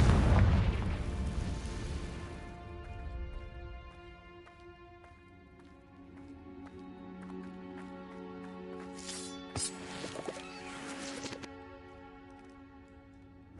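The Confringo explosion spell in Hogwarts Legacy bursts with a heavy boom and rumble at the start, fading into sustained tonal game ambience, with a cluster of sharp crackling impacts later and a final thud.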